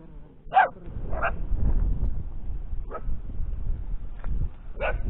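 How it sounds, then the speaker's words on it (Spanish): Several stray puppies hiding under a bridge give short, high yips and barks in scattered bursts, fairly close, over low rumbling background noise. "Son todas crías, no son los perros grandes."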